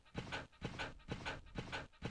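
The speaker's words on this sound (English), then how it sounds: "I hear another dog" A dog in a Resident Evil game pants rapidly in rhythmic bursts, about five or six breaths, faint and close, with no talk heard.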